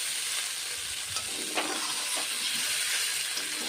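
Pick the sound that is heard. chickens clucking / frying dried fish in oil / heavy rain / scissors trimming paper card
frying dried fish in oil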